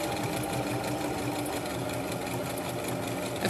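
A sewing machine stitches down the edge of fabric for a headband, a steady close mechanical chatter with rapid repeating needle strokes throughout.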